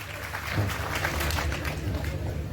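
An audience applauds for a folk artist at a live stage performance, with a dense wash of clapping and crowd noise rising after a brief start and continuing steadily to the end.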